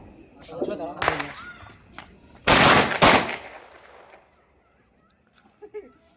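Diwali firecrackers burst in loud rapid clusters, a sharp crackling volley followed by a second heavy blast, with a few faint pops trailing off afterward as people talk in the background.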